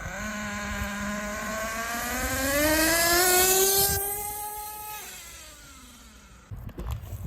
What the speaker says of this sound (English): So just short bursts, 2 to 3 second bursts of full throttle,